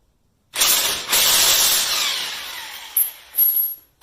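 Impact wrench spinning lug nuts off the wheel of a Volvo S60 T5 during a brake pad job, a loud sustained burst followed by two short sharp bursts near the end, close by.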